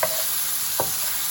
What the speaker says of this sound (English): I'm gonna let this fry for a little bit longer before I add the broccoli.